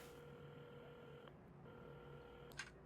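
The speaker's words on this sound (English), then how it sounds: "at the counter, Carmen had started dialing the phone" A telephone is dialed at a café counter in the video game Assemble with Care, heard as faint tone blips and a few soft clicks over a quiet hum, with no talking.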